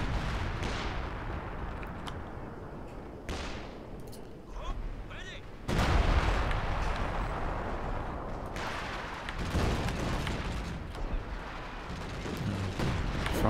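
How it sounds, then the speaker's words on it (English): Rocket artillery shells landing in Company of Heroes 2, with repeated heavy booming impacts and rumbling blasts layered over continuous battle noise, some hits sharper and nearer than others. "one rocket lands, one shell lands there, one shell lands over here"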